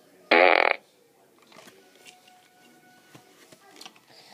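A Despicable Me toy lets out one short, loud, buzzy electronic fart near the start, followed by faint clicks and handling noises.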